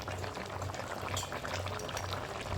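Fried vegetables and a pinch of garam masala going into simmering shukto curry, with a soft, steady bubbling and liquid churning heard up close at low volume.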